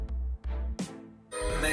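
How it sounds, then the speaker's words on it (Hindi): Short snippets of mobile phone ringtones play one after another, bright synthesized tones with a steady low beat, cut off abruptly between segments, with no voices over them. "मैं आपको यहाँ पर कुछ रिंगटोन प्ले करके भी सुना देता हूँ।"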